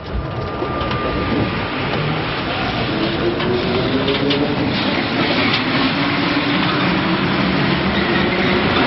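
Metro train ride heard from inside a carriage in France, with continuous loud rumble and rattling of the car over the rails, steady throughout with a faint high whine.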